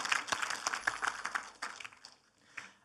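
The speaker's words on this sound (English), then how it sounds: "A big round of applause for Cole." A conference audience at a tech talk session gives a round of applause for a speaker, scattered claps rising and thinning over a few seconds at moderate, fairly distant level.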